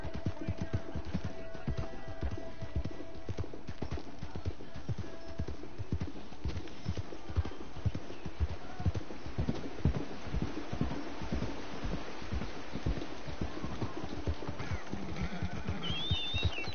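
Horse hooves clip-clop at a steady, regular gallop in the Red Dead Redemption video game while a new horse is being tamed. Occasional faint horse snorts and a speaking voice run alongside the even, close hoofbeats.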